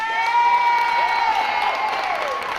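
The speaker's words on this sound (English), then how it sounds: "Let's give a round of applause for her." Rally crowd in Toledo cheering and applauding for an Olympic boxing medalist, a steady, dense roar of claps with whoops and shouts rising over it throughout, loud and fairly close.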